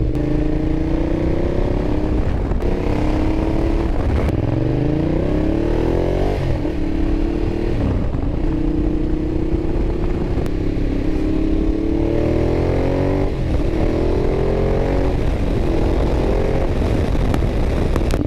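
A Ducati Diavel motorcycle engine revs up and down repeatedly while riding on backroads, loud and close, with rising pitch sweeps through the gear changes and a deep exhaust rumble.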